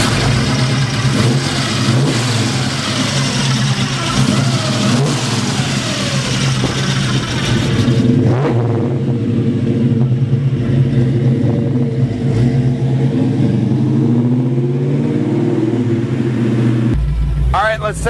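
A 1968 Chevrolet Camaro with a big block V8 and four-speed runs loud and close, its engine rumbling and revving steadily, with a deeper shift in tone partway through and a voice talking over it.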